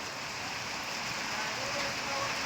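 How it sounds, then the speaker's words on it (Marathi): Steady, dense rain hisses evenly throughout, a broad wash of falling water with no clear breaks or individual drops standing out. "अवकाळी पावसाची जोरदार हजेरी"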